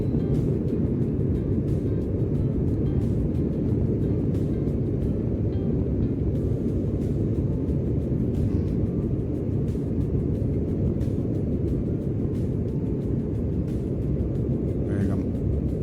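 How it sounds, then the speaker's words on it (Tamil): Airliner cabin during the takeoff roll on a flight from Diu, with a loud, steady low roar of engines and rumbling wheels filling the whole stretch without letup. "இதோ ஃப்ளைட் வேகம் எடுத்துருச்சு."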